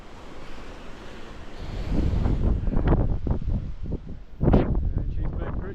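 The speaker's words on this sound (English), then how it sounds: "And she's been pretty windy today." Gusty wind blowing outside a hiking hut on the Grampians Peak Trail, buffeting the microphone in strong irregular bursts, loud and close, with a brief calmer lull before it picks up again.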